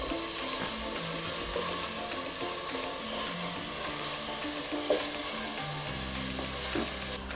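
Tomatoes, coriander powder and spices for mutton biryani frying in a pan, a constant close hiss and sizzle with occasional stirring scrapes and light clinks, under steady background music.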